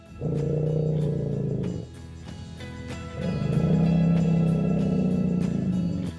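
Elephants trumpeting and rumbling to one another in greeting, two long loud calls separated by a brief pause, with low rumbling tones running under the trumpeting.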